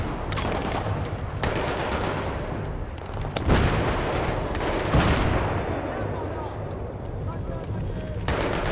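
Gunfire in the Battlefield 3 video game: continuous rattling automatic bursts and heavier booming shots over a dense battle din, with players talking over it.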